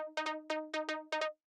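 A simple synth pluck lead for groovy tech house plays dry, with no grain noise or echo: seven short, bright harmonic plucks in a bouncy, syncopated rhythm that stops cleanly.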